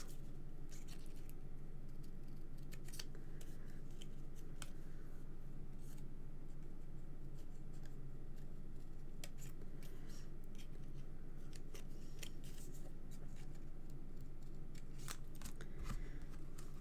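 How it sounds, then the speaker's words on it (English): Faint scissors snip through card stock in scattered, irregular cuts over a quiet background hum, with small rustles of paper between snips. "You just get your scissors and cut it apart."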